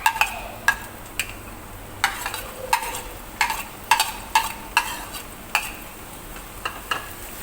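Onion and dried chili frying in a pan for a Bengali-style bok choy dish: a steady low sizzle broken by repeated sharp scrapes and clinks of stirring, close and fairly quiet, with no one talking.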